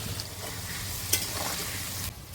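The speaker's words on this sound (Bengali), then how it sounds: "আলুগুলো একদম ডুবো তেলে ভাজা হচ্ছে আজকে।" Potatoes deep-frying in plenty of oil, a soft continuous sizzle with a bright clink and some stirring scrapes partway through, no voices.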